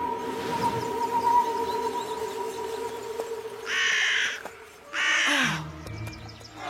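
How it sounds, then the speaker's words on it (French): Two loud, harsh crow caws from the cartoon Yakari ring out one after another over a steady low hum and faint background noise. "C'est Micmac le corbeau"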